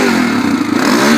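A Honda TRX400EX ATV engine, still a little cold, idles and revs steadily with a low, continuous rumble and some mechanical clatter, close by, with no talking.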